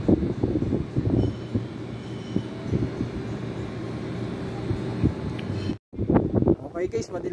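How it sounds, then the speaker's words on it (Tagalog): The compressor in the outdoor unit of a Samsung split-type air conditioner runs with a steady low hum and whoosh under someone talking, cutting out briefly near the end. "So ang ganda na ng takbo ng compressor"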